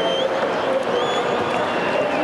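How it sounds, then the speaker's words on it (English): St Kilda supporters cheer and applaud after their side's 58-point win over Carlton at a 1996 Ansett Cup match, a dense steady roar of crowd noise and clapping filling the short stretch, with voices mixed in. "StKilda fans celebrating their side victorious by 58 points"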